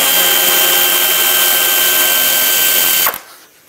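A power drill whines steadily at high speed on a 7mm bumper bolt of a 2006-2011 Chevy HHR, loud and close, then winds down abruptly and stops near the end.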